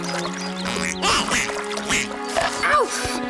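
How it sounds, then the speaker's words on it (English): Cartoon turtle ducks in Avatar: The Last Airbender quacking in short, rapid bursts near a pond, mixed with splashing and layered over a constant background tone and animated scene sounds. "want to see how Azula feeds turtle ducks?"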